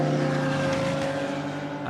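GT4 race cars, a mix of shapes, sizes and layouts, roar around Silverstone in the Masters GT4 Classic race, a steady loud engine drone with strong sustained tones and no break.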